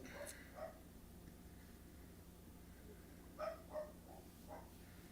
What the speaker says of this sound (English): Come on, Pop. Stop barking.